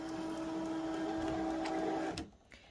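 An electronic cutting machine runs with a steady motorized whir while cutting small, finely detailed paper pieces for nursery bunting, then stops abruptly near the end, leaving near silence.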